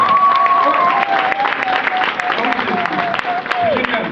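Church congregation welcoming visitors with applause and acclamation, crowd clapping and cheering mixed with voices and a sustained tone over the noise, talk running through it.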